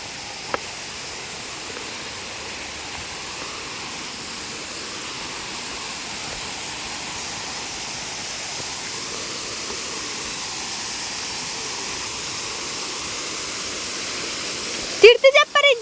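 Hanuman Gundi waterfall at Kudremukh gives a steady, broad rushing roar that stays even and constant, heard alone, with a brief burst of handling noise at the very end.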